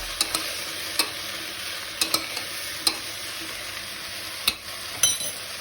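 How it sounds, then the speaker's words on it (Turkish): A spoon stirs pumpkin soup in a pot with soft, steady scraping and a few sharp clinks against the metal. A faint sizzle runs underneath, and no one speaks. "Şöyle bir bir iki karıştırıyoruz."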